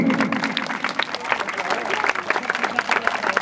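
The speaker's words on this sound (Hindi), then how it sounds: "एक बार ताली बजाई इस बच्चे की" A crowd at a children's camp event claps steadily for a young boy, a dense, continuous patter of many hands with voices murmuring underneath throughout.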